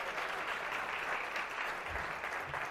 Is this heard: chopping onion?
no